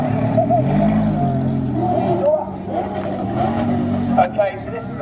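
A Lamborghini Aventador Super Veloce, a 750-horsepower track-focused flagship, drives close behind with a loud, sustained engine drone and shifting revs throughout, shown alone without speech.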